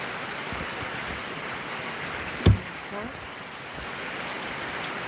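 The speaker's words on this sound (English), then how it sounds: "this is the sound of the rain here." Rain falls in a steady, even hiss that fills the whole clip, broken once by a single brief thump near the middle.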